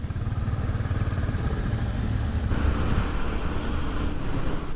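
A Royal Enfield motorcycle rides steadily at a demo day, its engine droning close under heavy wind rush with a slight shift in tone as it changes gear.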